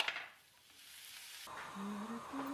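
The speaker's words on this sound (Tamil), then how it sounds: "கடுகு உளுத்தம் பருப்பு காஞ்ச மிளகாய் கருவேப்பிள்ளை வெங்காயம்லாம் சேர்த்து நல்லா வதக்கிட்டு" Mustard seeds, urad dal, dried chillies, curry leaves and onions tempering in hot oil, a soft, faint sizzle with light stirring, no talk.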